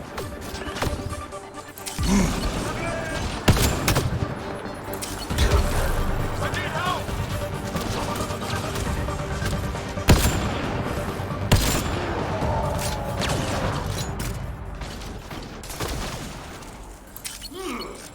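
Sniper rifle fire in the video game Mass Effect Andromeda comes as loud, sharp shots and crashing impacts amid dense, continuous combat effects.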